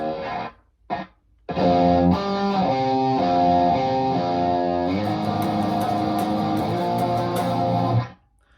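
A distorted electric guitar plays a chugging riff alone, loud and steady, after a few short muted stabs, with brighter picked notes layered in toward the end.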